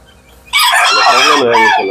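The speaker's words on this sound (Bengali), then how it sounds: "আমি আপনাদেরকে মুরগিগুলোর কালেকশন গুলো দেখাচ্ছি" A rooster on a chicken farm crows loudly and close, one long strained call rising out of near quiet.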